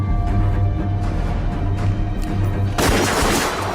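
Video game gunfire, a rapid fusillade of loud close shots in bursts that give way to a heavy sustained roar of firing and booms.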